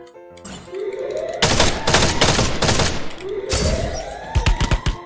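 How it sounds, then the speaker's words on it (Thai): Rapid bursts of gunfire in a shooting video game, with loud volleys and crackling shots across the clip, some heavy thumps and a rising whoosh between them, close and dense. "มึงก็ยิงอยู่นั่นแหละ"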